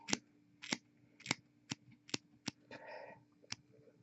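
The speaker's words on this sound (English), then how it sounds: "So taking the scissors," Scissors snipping at random angles to trim material on a painted miniature, about eight crisp separate snips spaced irregularly, close and quiet, with a brief rustle near the end.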